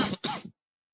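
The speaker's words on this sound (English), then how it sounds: "Pardon me if I'm coughing a little today" A single raspy throat clearing with a short cough-like burst, close and brief, from a presenter during a trading talk, followed by silence.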